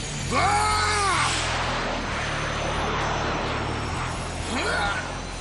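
A cartoon aircraft takes off and flies away, its engine drone droning steadily across the scene, with whooshing sweeps near the start and end and no talk over it.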